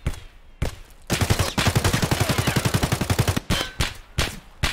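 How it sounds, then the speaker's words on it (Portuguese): Sustained automatic gunfire in the shooter game Escape from Tarkov, loud rapid bursts of suppressive fire in an even rhythm, broken by a few short pauses and separate shots. "Quer que eu dê tiro de supressão ou não?"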